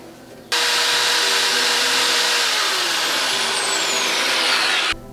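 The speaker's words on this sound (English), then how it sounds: "I'm starting off with a 5/64 inch drill bit, and I'm going to step up all the way to a 1/2 inch" A drill bores steadily through a steel steering knuckle with a 5/64 inch bit, a loud, continuous whine that starts abruptly, holds for several seconds, then stops.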